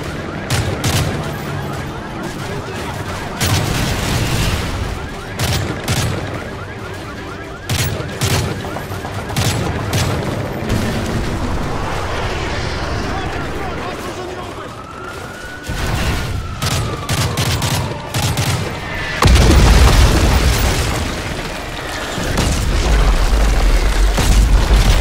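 Bursts of XM-25 fire and booming explosions in Modern Warfare 3's Black Tuesday stock exchange fight, loud, repeated blasts and crackling gunfire continuing throughout with ambient battle noise and a few quiet stretches between volleys.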